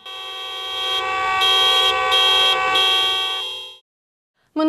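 Car horns blaring together as a tribute to road crash victims, a loud sustained chorus of tonal honks with a few pulsing bursts, stopping abruptly before a short final toot.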